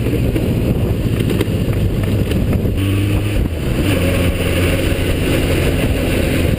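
A motorcycle rides in high gear with a steady loud engine drone and heavy wind rush at close range, without speech.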